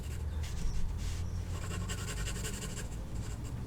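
A pencil shading tone into a drawing of Dobby the house elf, soft close scratchy strokes repeating in quick bursts against a quiet room hum.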